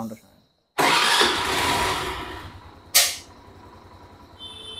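A used scooter at a second-hand bike showroom in Kumarghat, Tripura, starts up after a short pause, its engine roaring at once into a steady run, with a sharp revving blip partway through.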